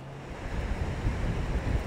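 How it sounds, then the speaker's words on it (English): Atlantic Ocean surf at Cavendish Beach on Prince Edward Island, heard as a dense roaring wash of waves with strong wind buffeting the microphone, swelling louder toward the end. "it's pretty windy out here, but that is the Atlantic Ocean"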